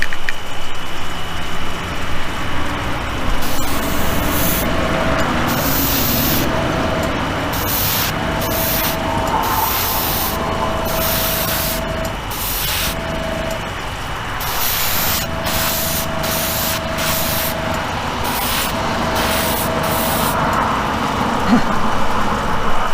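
Createx gold flake paint is sprayed onto a diecast car base for a custom '55 Bel Air gasser, in repeated airbrush hisses that start and stop in short bursts, close and steady under a low background hum.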